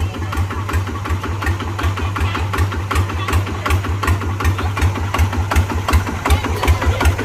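A new car engine idles steadily at close range with a regular low throbbing pulse and a faint mechanical ticking on top. No voices are heard over it.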